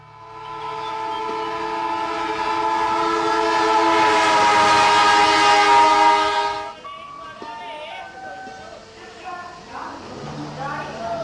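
A train runs past, its horn sounding in a long steady blast for several seconds over the rolling rumble of the wheels, which carries on after the horn stops.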